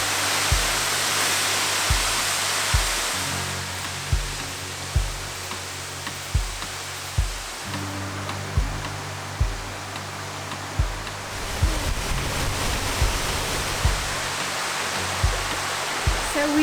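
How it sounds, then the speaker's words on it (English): Bridal Falls waterfall in New Zealand pours with a constant broad hiss and roar, steady throughout, with faint periodic ticking knocks underneath and no voices. "You can just look at the waterfall."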